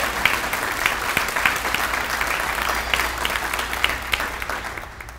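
An audience at an elementary school dedication ceremony applauds warmly, a dense sustained patter of many hands that fades slightly toward the end.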